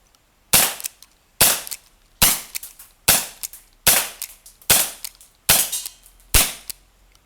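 Airsoft P11 pistol, a 2-joule model, fired at a target, eight sharp snapping shots at roughly one-second intervals, each with a short rattling tail, close and alone.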